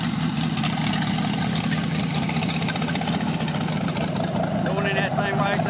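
A 1967 Corvette 327/350 L79 V8 with a performance cam idles steadily through open headers in a back yard, its low rumble continuous and close. Faint background sounds sit on top of the engine, and no one speaks.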